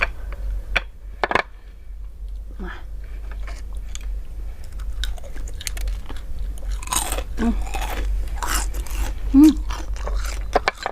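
Close-up chewing and crunching of oysters eaten with crispy fried chili, irregular wet bites and crisp crunches over a low steady rumble, with brief mouth noises between chews and no talking.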